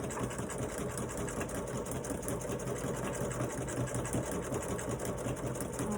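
A home sewing machine runs continuously, its steady mechanical whir and rapid needle clatter sounding slightly rough and uneven, as if not working quite right, close by with no talking.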